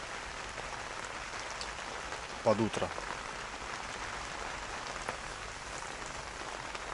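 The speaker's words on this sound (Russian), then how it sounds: "Короче, зарядил дождь, ребят. Сейчас, наверное, слышите." Steady rain patters on the fabric of a tent with a stove, a constant close drumming hiss, with a brief spoken phrase in Russian in the middle.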